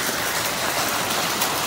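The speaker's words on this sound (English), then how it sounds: "it looks like we're getting a fair drop of rain out of this" Steady rain mixed with small hail falls during a sudden flash storm, a dense, even hiss of drops and pellets striking surfaces nearby, continuous and fairly loud with no voices.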